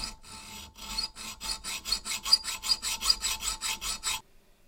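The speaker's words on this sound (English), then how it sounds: "we're going to hacksaw down the either side, and we'll flip it on the side and we'll hacksaw this way" Hacksaw cutting grooves in metal for a Coleman lantern check valve removal tool: about sixteen quick, rhythmic rasping strokes, close by and growing stronger, before stopping abruptly.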